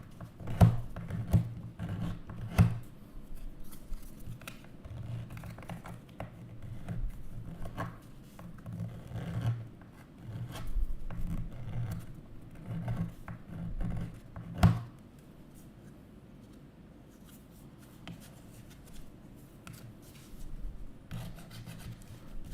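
A hand file rasping back and forth on a workpiece in place of sandpaper, in uneven bursts of scraping strokes with short pauses and a few sharper knocks, fairly quiet and close.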